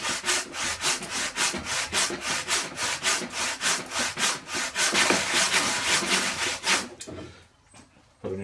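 A handsaw cuts through timber along a guide of clamped timber pieces on a wobbly trestle, with about twenty quick, loud, rhythmic strokes close by before the cutting stops.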